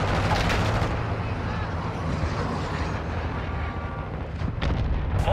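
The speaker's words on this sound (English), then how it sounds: "Friendly cruise missile inbound." Explosions from a cruise missile strike in Call of Duty: Modern Warfare II, a loud heavy rumble that continues with crackling blasts and ends in a few sharper hits, with game voice lines underneath.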